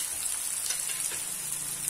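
Chopped onion frying for street-style pav bhaji, a steady, close crackling sizzle with faint stirring and no talk.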